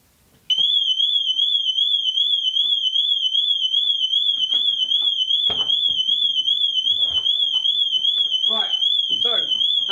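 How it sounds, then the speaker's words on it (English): Volkswagen Transporter T6 vehicle alarm sounding loudly and continuously in a steady warbling electronic tone, starting abruptly and holding throughout, with people talking faintly underneath. "at this point the alarm's going off"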